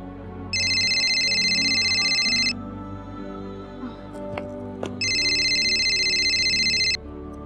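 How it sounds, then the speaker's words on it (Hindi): A phone rings in two loud electronic bursts of a few seconds each, with a short quiet gap and faint clicks between them, close and with no voices. "तुम्हारा फोन बज रहा है।"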